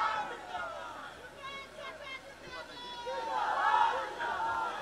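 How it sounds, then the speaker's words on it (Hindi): A large crowd at a political rally in India, a steady murmur of chatter and hubbub from many people, with a louder surge of voices toward the end. "साथियों, आप लोगों की अपार भीड़ अपने नेता को सुनने के लिए आई है।"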